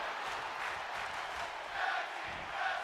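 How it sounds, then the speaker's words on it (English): A wrestling crowd chants in a WWE 2K25 video game, a dense, continuous roar of many voices at the Raw after WrestleMania in Dallas, Texas, with rhythmic swells but no clear words. "Tag team wrestling chants in the crowd"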